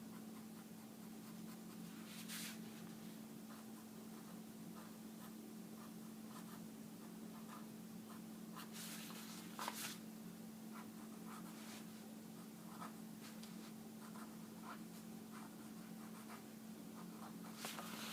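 Quick pencil lines are scratched across paper in short, light strokes, faint and intermittent over a steady background hum, with no voices.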